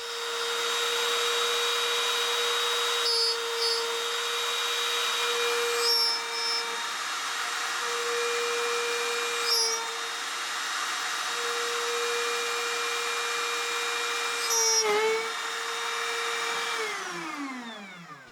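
A power drill whines continuously at a steady pitch for a long stretch while drilling a hole through plastic, with brief grinding bursts, then spins down at the end.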